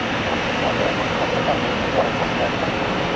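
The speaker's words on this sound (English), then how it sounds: "Oh, screaming on takeoff roll." Steady, loud broadband roar of a United jet airliner's engines building during a takeoff roll on runway 1 right at Tampa International Airport, a continuous rushing rumble with no speech.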